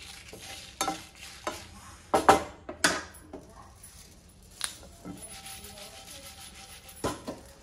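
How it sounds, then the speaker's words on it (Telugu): Bitter gourd pieces frying in a hot pan, with sharp clinks and scrapes of stirring at irregular intervals over a low, steady sizzle, close and moderately loud. "ఇవి కూడా ఫ్రై చేసేసుకొని వేసిన వేడిగా ఉంది కాబట్టి ప్యాన్ తొందరగా ఫ్రై అయిపోతున్నాయి"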